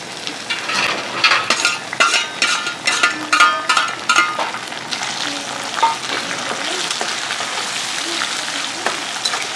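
Green chillies and a large tomato sizzle loudly in a hot pan, with a run of rhythmic scraping stirs early on, then steady close frying crackle.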